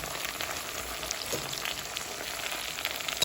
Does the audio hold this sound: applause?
no